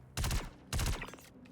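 Two loud bursts of rapid gunfire from an NPC in the sci-fi game Star Citizen, each about a quarter second long and a half second apart, followed by quieter clattering shots.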